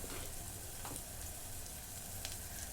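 A chickpea and vegetable curry roasts in a pan with a steady, faint sizzle and crackle. A few light pops rise through the constant frying hiss, and no voices are heard.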